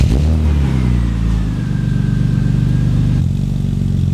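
A BMW M3 fitted with a new exhaust and intake idles loud and close, a steady deep rumble with a slight rise partway through, with no voices.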